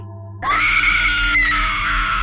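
A woman's scream serves as a horror sound effect, bursting in abruptly after a brief quiet moment and holding as one loud, sustained, shrill cry.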